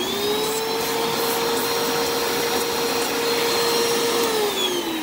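A Bissell carpet cleaner runs steadily with strong suction, a loud continuous whine holding one pitch that drops slightly near the end.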